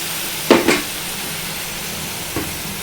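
Blended tomato poured into a hot pan of crab curry, giving two quick bursts of sizzling hiss close up, then a smaller sizzle a moment later over a quiet background.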